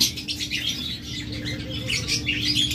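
Several small pet birds, such as lovebirds and budgerigars, chirp and tweet in quick, overlapping bursts, close by and fairly busy, with a low steady hum underneath.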